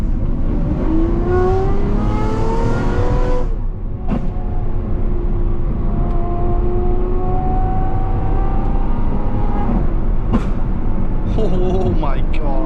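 Lamborghini SVJ fitted with a full Gintani exhaust system accelerating hard, a loud, high-pitched engine wail climbing steadily through gears with brief dips at shifts, heard close from inside the car.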